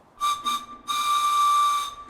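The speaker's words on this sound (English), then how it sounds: "Would you like to hear the whistle?" A loud steam logging whistle at a forest center in Tillamook State Forest gives two short blasts, then one long sustained blast, bright and shrill with a breathy hiss.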